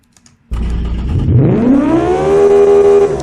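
A car engine in the racing sim Automation, tuned toward self-destruction, bursts from near silence into a loud revving roar whose pitch climbs steadily and then holds at a high strained whine, alone with no voices.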